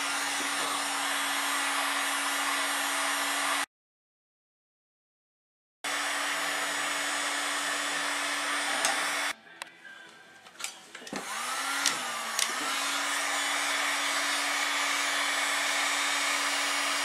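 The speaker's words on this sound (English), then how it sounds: "we'll get the heat gun going and we'll see if we can get it off" A heat gun runs with a steady, even blowing hiss while softening decal adhesive so the decal can be peeled off. It cuts out briefly, then resumes, with a few handling clunks partway through.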